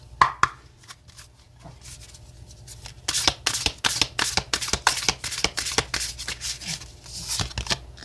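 Oracle cards shuffled by hand for a tarot reading, a quick run of crisp riffling slaps and flutters, close and steady, with no talking.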